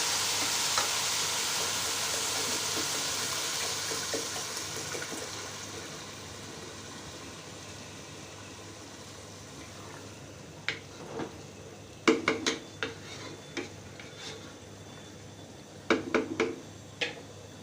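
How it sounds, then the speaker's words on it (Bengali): Raw rice being stirred and toasted in a pot for chicken roast and polao, with a steady close sizzle that fades, then sharp scraping knocks of the spoon against the pot in short bursts. "চাল ভাজা আমার হয়ে গেছে, আমি এখন পানি দিয়ে দিব"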